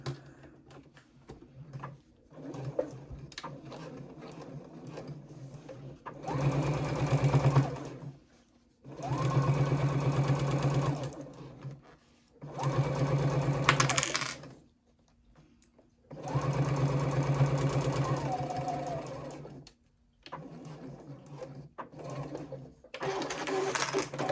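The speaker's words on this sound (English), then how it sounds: "sewing down here with a 3/8 of an inch seam allowance" A sewing machine stitches a 3/8-inch seam on a triangle fabric zipper pouch, running in several close bursts of rapid, even whirring separated by short pauses and quiet gaps.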